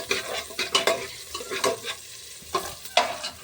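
Sliced onion frying lightly golden in a pan, with a steady close sizzle broken by frequent irregular stirring scrapes.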